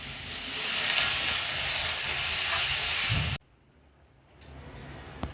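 Water poured into a hot pan of spiced oil for a rohu fish curry, with fresh green chillies, bursts into a loud, steady hiss and sizzle that cuts off abruptly, leaving a quiet simmer and faint kitchen noise.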